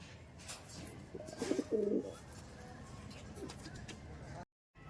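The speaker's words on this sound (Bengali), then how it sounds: "দেখুন বন্ধুরা পায়রাগুলো কি কোয়ালিটির পায়রা আছে" Teddy pigeons give soft, low cooing calls, a couple of short throaty coos in quick succession against a quiet outdoor background before a brief cutout.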